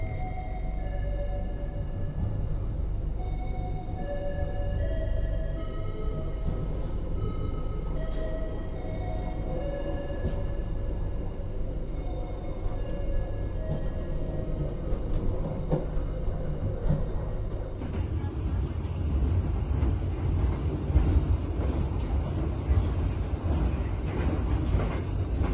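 Jayabaya passenger train running after leaving Bangil station, heard from inside the carriage: a constant loud low rumble and rolling wheel noise with faint rhythmic clatter, growing rougher and noisier toward the end.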